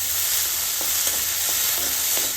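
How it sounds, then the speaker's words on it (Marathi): Fresh green peas roasting in a pan with only a little oil, giving a steady close sizzle with faint scraping stirs throughout. "आपले मटार एकदम मस्त शेकतात"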